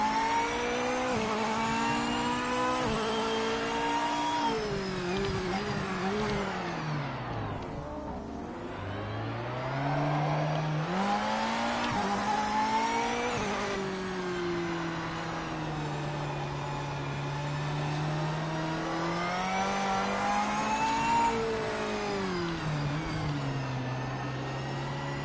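A race car in Project Motor Racing accelerates hard, its engine climbing through the revs, dropping at each gear shift and then winding up again, loud and continuous throughout.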